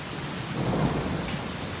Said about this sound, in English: guys, it's hailing right now.